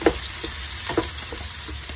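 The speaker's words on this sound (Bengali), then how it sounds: "তেলে পেঁয়াজগুলো ভালো মতো ভেজে নিব" Chopped onions frying in oil with ginger and garlic paste, a continuous close sizzle with a few soft stirring scrapes, no voices.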